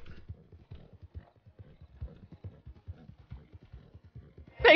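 Hooves of a horse in the RedM game clip-clop in a fast, steady galloping rhythm, moderately close, ending with a loud, bright neigh.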